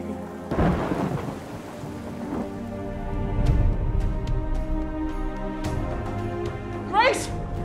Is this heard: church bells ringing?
no